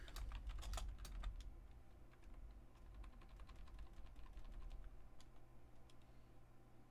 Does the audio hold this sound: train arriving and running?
no